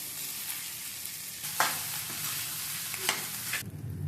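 Rice being stirred through hot oil in a pan for a simple carom-seed (vamu) rice, a steady frying sizzle with a couple of sharper scraping stirs, close and alone without talk.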